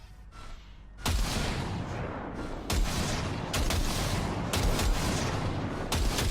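Loud gunshots ring out during a weapon calibration test in Cyberpunk 2077, a few heavy single reports and bursts spaced across a steady noisy background, close and booming.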